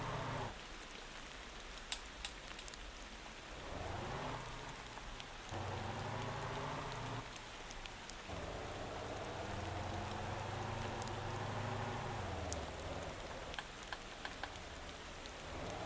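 Steady rain falls in Motor Town, a continuous hiss of drops on surfaces with a low engine-like hum and occasional clicks running underneath, even and fairly soft throughout.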